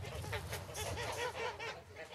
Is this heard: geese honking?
yes